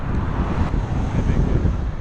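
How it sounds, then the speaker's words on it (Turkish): Strong head-on wind buffets the microphone with a steady, dense roar on an open road between Iğdır and Ağrı, with no break throughout. "Rüzgar tam karşıdan esiyor şu an."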